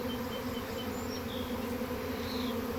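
A honeybee swarm fills the air around the listener with a dense, continuous buzzing drone. It is close and steady, with individual bees whizzing past now and then and no voices.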